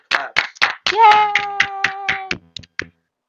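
Audience applause at a school fundraiser walk for suicide prevention: about nine sharp, rhythmic claps ring out close by, joined midway by a sustained cheering voice.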